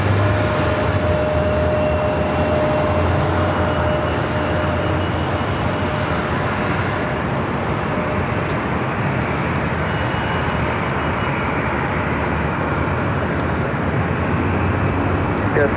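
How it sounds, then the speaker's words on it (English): A Qantas Airbus A380 arriving on the north side at LAX after a flight from Melbourne, a loud, broad, steady jet roar at a distance throughout. Voices are heard over it. "Qantas flight 93. It's the A380 Super coming in from Melbourne."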